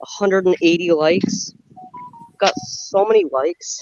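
A short electronic phone notification chime of a few high, clear tones, sounding in a pause between stretches of close talking by a person.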